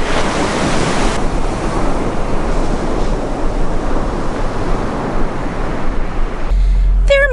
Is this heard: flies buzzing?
no